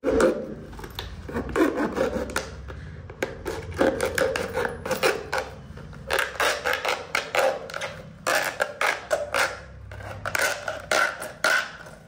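A kids' plastic piggy bank is cut open at close range, giving bursts of rasping, sawing scrapes in irregular strokes with short pauses between them.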